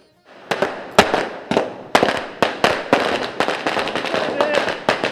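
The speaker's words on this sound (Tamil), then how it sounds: "பட்டாசுகள் வெடித்து மகிழ்ச்சியாக" A rapid string of sharp Diwali firecracker bangs bursts one after another, loud and close, with crackling pops in between and faint voices in the background.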